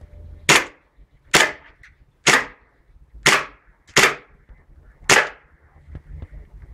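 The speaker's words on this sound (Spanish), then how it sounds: "Ahora vamos a proceder a la prueba de tiro." WE M.E.U. 1911 gas blowback airsoft pistol test-fired, six sharp, loud cracking shots spaced roughly a second apart with quiet gaps between them.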